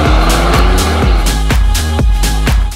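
Maserati Ghibli Hybrid with a 4-cylinder turbo petrol engine and 48-volt mild-hybrid system, heard as a steady, loud engine drone while driving, with rhythmic pulses and shifts in tone.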